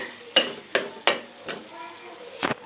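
Masala for besan ka salan is stirred in a pot, with a series of sharp spoon-on-pot scrapes and knocks at irregular intervals over a faint frying crackle.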